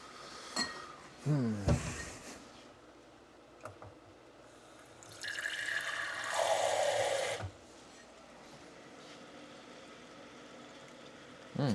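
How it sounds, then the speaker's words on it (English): Water is poured into a pot of lentils in a home kitchen, a splashy pouring rush lasting a couple of seconds after a few clinks of utensils, fairly close and moderately loud with no talk. "I think I should add some water though"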